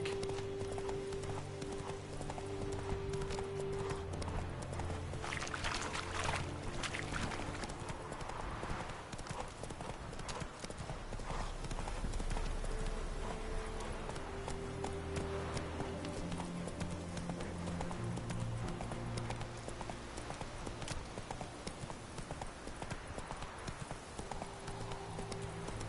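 A horse gallops in a PS4 video game, with continuous rhythmic clip-clop hoofbeats over steady game background sound throughout.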